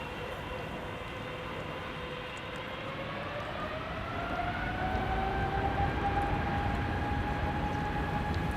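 A Cathay Pacific Cargo Boeing 747 on final approach to runway 06 at Schiphol gives a broad, rising jet roar with whining engine tones, growing louder as it nears, without talking.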